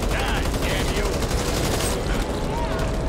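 Rapid automatic gunfire in the zombie shooter Back 4 Blood, loud and continuous through the whole burst, with a brief shift in tone near the end.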